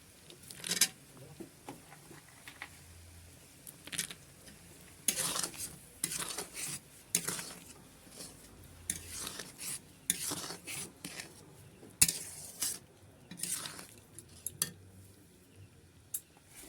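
Cashews being added and stirred into a Bengali-style tomato chutney in a pot: intermittent scraping and clinking of a spoon against the pan over a faint simmering sizzle, no talking.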